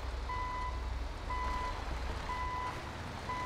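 Tow truck in a video game backing into a crowded yard, its reversing alarm beeping in a steady repeating pattern, roughly one beep per second, over a constant low engine rumble.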